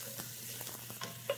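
Onion caramelizes in a hot pan with oil, giving a soft, steady sizzle and a few faint stirring scrapes, quiet and close with no talk.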